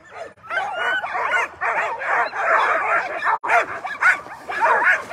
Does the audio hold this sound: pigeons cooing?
no